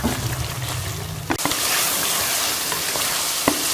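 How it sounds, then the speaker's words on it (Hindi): Chicken coated in garlic ginger paste fries hard in a karahi over high heat: a loud, steady, hissing sizzle with stirring scrapes early on and one clunk from the pan partway through. "इसे तेज आंच पे भून लेंगे"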